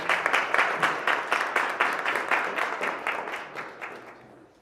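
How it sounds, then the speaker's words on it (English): Audience applause for a speaker introduced at a youth event: a steady run of rhythmic claps, fairly close and full, gradually thinning and fading out near the end. "can we please put a round of applause for the National Secretary of PBICT, Mr. William Lidwell"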